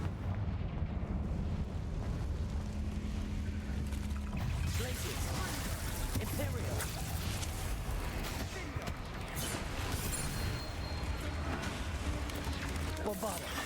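Repeated fiery blast spells going off in the Hogwarts Legacy video game, a dense, loud barrage of booming explosions and crackling impacts that continues throughout, with a voice talking over the action.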